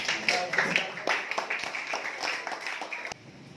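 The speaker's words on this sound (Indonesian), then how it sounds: "Tepuk tangan semuanya" A group of students clapping in a classroom, a moderately loud, uneven patter of hands that thins out toward the end, with some voices mixed in.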